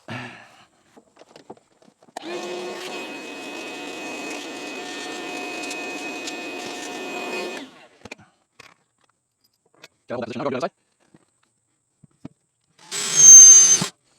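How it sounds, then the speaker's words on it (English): A small handheld vacuum runs steadily for about five seconds to clean up after installing a Freedom Launcher on a Frontier 12, followed by silence and a few short bursts of tool noise. "go ahead and get my little vacuum to clean things up."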